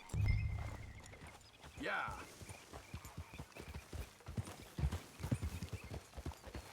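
A ridden horse's hooves clip-clop in a steady walking rhythm, close and fairly loud, with wind noise at the start and a person talking briefly.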